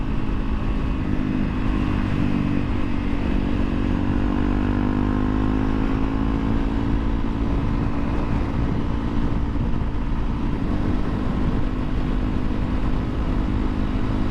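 A 2017 Honda CRF 250L, a 250cc motorcycle, cruises along small back roads with a steady engine drone and rising pitch sweeps as it shifts, mixed with continuous wind rush throughout.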